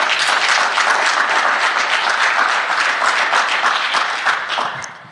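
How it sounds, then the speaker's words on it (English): Audience applause for the panelists at the ASNT Annual Conference 2019 NDE 4.0 panel discussion: steady, dense clapping from a full room that holds for about five seconds, then thins and fades. "give a round of applause to the panelists"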